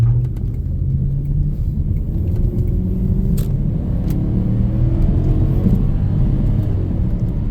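A lowered 2000 Audi A6 4.2 with stiff springs and shocks driving over bumps on a rural farmland road, a steady loud engine and road rumble throughout with faint rattling, no talking.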